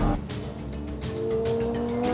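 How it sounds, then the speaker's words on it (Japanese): A Honda NSX race car powers out of a corner while wrestling oversteer, its engine note climbing under tire squeal, loud and close during a track race. "立ち上がりでオーバーステアをねじ伏せたガンさん NSX が500馬力オーバーの2台を従えて3番手に"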